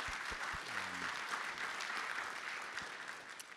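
Conference attendees at a pig survivability discussion give a round of applause, a steady wash of many hands clapping from across the room with a few low thumps.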